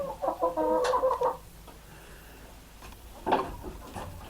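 Chickens and a rooster cluck in a short busy burst on a ranch, then go quiet before another brief round of clucking near the end.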